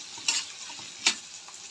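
Chopped onion, a small piece of potato and two green chilies sizzle in hot oil in a pan for a mushroom curry, with two distinct scraping stirs of a spoon over a steady frying hiss.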